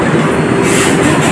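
A Mumbai local train at Mumbai Central station rumbles loudly and continuously up close, with a steady mechanical drone and a brief high squeal or hiss partway through.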